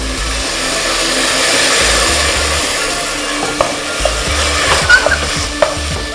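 Chopped tomato and vegetables fry in a hot pan for a Dindigul-style biryani, giving a steady close sizzle with a few light stirring knocks near the end and no voices.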